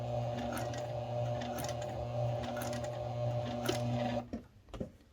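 A sewing machine stitches fabric in a steady, fast mechanical hum with rhythmic clicking, then stops abruptly near the end, leaving a few soft handling knocks.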